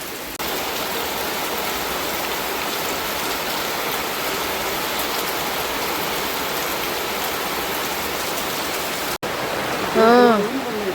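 Monsoon rain pours steadily in Coorg, a dense, even hiss close by that holds at constant strength, with a voice speaking briefly near the end.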